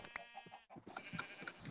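Sheep bleating in a blocky sandbox video game, two or three short nasal bleats close by over quiet game ambience.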